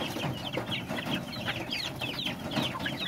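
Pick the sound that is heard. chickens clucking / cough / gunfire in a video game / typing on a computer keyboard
chickens clucking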